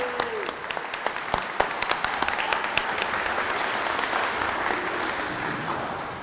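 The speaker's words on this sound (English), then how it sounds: "I think that deserves a round of applause." A crowd breaks into applause, scattered claps swelling into a steady wash of clapping that holds for several seconds before easing slightly.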